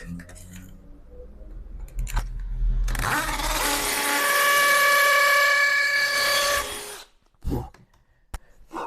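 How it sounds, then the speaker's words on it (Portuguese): An electric drill bores a hole into a custom wooden base for an action figure, a loud steady whine lasting about four seconds before stopping abruptly, with brief handling noises and some talk around it. "Ele ainda tá no alto, precisa furar mais."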